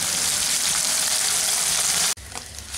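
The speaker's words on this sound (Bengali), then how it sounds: "মাছগুলো আমাদের ভাজা হয়ে গেছে" Small mourala fish fry in hot oil, a loud dense crackling sizzle filling most of the clip before dropping abruptly to a quieter bubbling hiss near the end.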